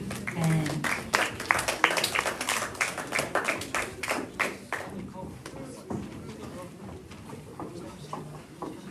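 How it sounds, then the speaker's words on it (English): An audience claps for a band with brisk, dense applause for the first few seconds, then thinning to scattered claps as voices talk over it. "Big clap for our wonderful band."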